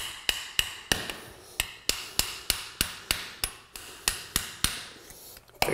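Plastic plugs being tapped into laminate flooring with an Olfa utility knife, about sixteen sharp, separate knocks at a fairly even pace, each ringing briefly before the next, heard alone without talk.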